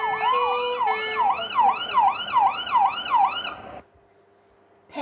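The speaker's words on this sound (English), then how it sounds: "Jupiter's lights began to flash and the siren wailed." Fire engine siren wailing in rising and falling sweeps, loud and close, with a steady tone underneath; it cuts off abruptly near the end, leaving a quiet pause.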